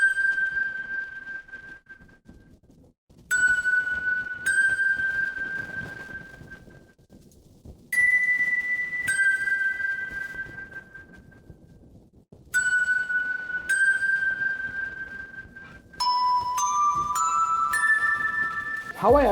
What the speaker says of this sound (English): Next, I have this bell here.